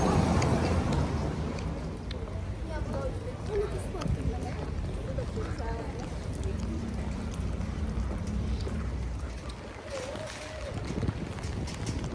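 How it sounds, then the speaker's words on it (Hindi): Rain falls steadily on an empty city street at night in wartime Ukraine, a constant broadband patter that runs the whole time under nearby conversation. "अरे यार बारिश होने लग रही है"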